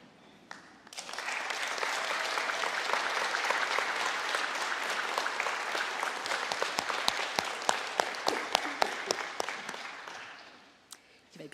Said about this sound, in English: turn around, and applaud the people who walked this journey with you